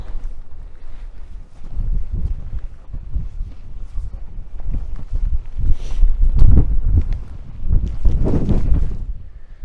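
Strong wind roars and buffets in heavy gusts on a cold mountain, Pen yr Ole Wen, rising and falling in waves with a deep rumble throughout.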